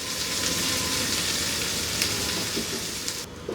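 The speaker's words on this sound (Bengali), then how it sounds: "আমি হাই হিটে ভাজতেছি যাতে পেঁয়াজটা জলদি একটু কারমালাইজ হয়" Onions frying in oil over high heat, a dense steady sizzle that stays loud and close throughout, easing slightly near the end.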